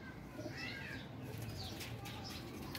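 A pigeon coos softly in short, low, muffled bursts while it is held in the hand, with people talking nearby and wings shifting now and then.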